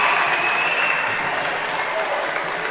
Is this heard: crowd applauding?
yes